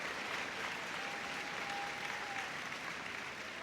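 At the Crufts 2025 dog show, a crowd gives sustained applause to a Papillon, a dense, even patter of clapping heard from a distance that fades slightly toward the end.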